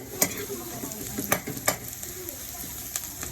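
Chili frying in a pan, a steady sizzle with sharp spitting pops and splatters scattered through it, close and fairly loud, with no talking.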